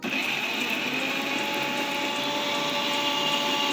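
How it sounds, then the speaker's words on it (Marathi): A mixer grinder whirs loudly and continuously, blending tomatoes, coriander, ginger and garlic into paste, with a steady motor whine and a churning rattle from start to finish. "मी मिक्सरमध्ये घालून बारीक आपण याचं पेस्ट करून घेऊया"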